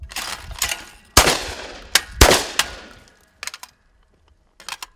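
Small caliber handgun shots at an outdoor shooting range, several sharp loud cracks in irregular succession with short ringing decay, followed by fainter distant pops.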